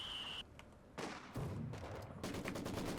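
Machine gun fire crackles in Company of Heroes 2 during a 4v4 battle on Lienne Forest. Bursts of rapid automatic shots arrive fairly faint and broken up, between short gaps and a brief tonal whine.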